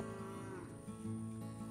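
A miniature cow moos nearby, a drawn-out low lowing call that rises and falls in pitch before trailing off.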